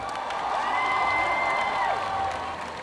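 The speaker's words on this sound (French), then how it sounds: "On l'applaudit encore une fois, Elotine." Audience at a cosplay contest jury presentation during a Japan Tours Festival applauds and cheers, a steady dense wash of clapping and crowd noise from start to finish, with whistles or tonal cheers rising over it.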